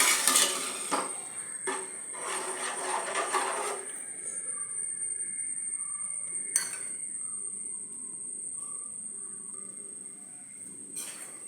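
Rava semolina payasam with jaggery is stirred in a pan, with a spoon scraping and clinking against the metal in quick bursts early on, then quieter sparse taps over a faint steady background tone.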